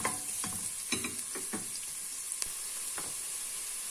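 Carrots sizzle steadily in a frying pan, the quiet hiss punctuated by several sharp clicks and scrapes of stirring.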